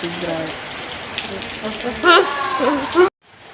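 Steady rain patters on a surface, a broad hiss throughout, with a few faint voices briefly rising above it before the sound cuts off abruptly near the end.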